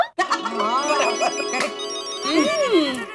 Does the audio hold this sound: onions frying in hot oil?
no